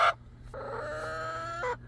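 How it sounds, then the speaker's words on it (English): A hen gives a short cluck, then draws out a long, wavering bawk, close and clear with quiet background. "Best looking chickens in here right now."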